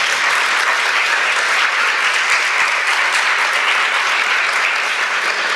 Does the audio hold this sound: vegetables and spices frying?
no